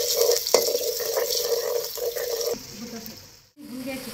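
Fresh green ginger and garlic frying in a pan in a rustic village kitchen, a steady close sizzle with stirring scrapes and a sudden brief gap near the end, a voice faintly present.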